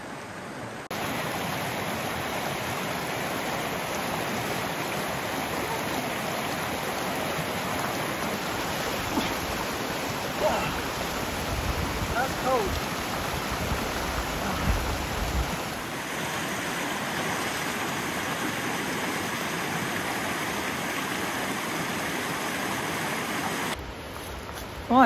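Steady broadband rush of a river flowing in the wild mountains of the Dinaric Alps in the Balkans, continuous and fairly close, with no voices.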